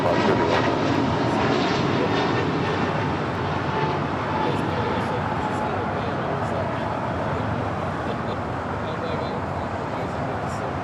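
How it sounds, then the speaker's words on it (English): American Airlines A321neo jet departing LAX, a steady broadband engine roar holding loud and constant throughout, with a talking voice over it. "That flight heading to Philadelphia, American Airlines flight 1245 and then A321neo."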